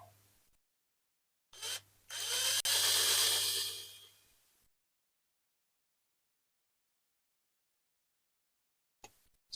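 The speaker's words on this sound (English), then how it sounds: "Maybe a bit more drilling at the front." Small power drill boring into a Dinky Toys Ferrari No. 234 diecast model during restoration, a close, steady whine lasting a few seconds before stopping, with brief rustling around it.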